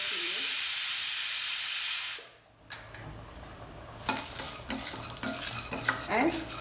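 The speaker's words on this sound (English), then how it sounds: "Saute all these together till the dal is also well roasted." Chana dal and five or six red chillies are sautéed in a pan, a loud steady hiss cutting off after two seconds and giving way to quieter sizzling with spatula stirring and scraping.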